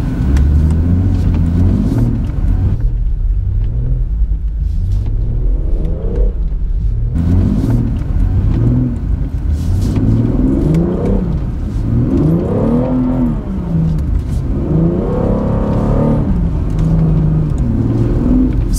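A 2018 BMW 440i xDrive driving on snow, its engine rumbling and revving steadily with rising and falling pitch as it accelerates through corners, loud and continuous throughout.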